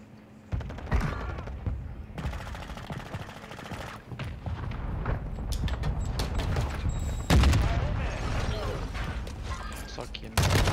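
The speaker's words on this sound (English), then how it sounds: "Our mortar strike is inbound." Mortar strike explosions in a video game boom and rumble repeatedly over continuous gunfire and mechanical clatter, loud and dense throughout, with heavy impacts around the middle and near the end.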